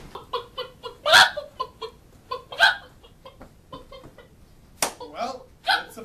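A man imitates a chicken with his voice, giving a string of clucks and a few louder squawking bursts in an uneven rhythm, close and fairly clear, during a podcast.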